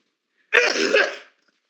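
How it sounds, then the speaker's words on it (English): A single short cough or throat-clearing lands close to a microphone during a sports podcast. It is one rough burst under a second long, alone and with no talking. "I might have coughed over you"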